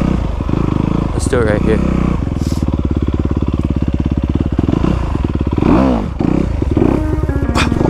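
A Honda CRF250R dirt bike on single track around a property idles and revs close by, its engine droning loudly with surges of throttle, while someone talks briefly over it.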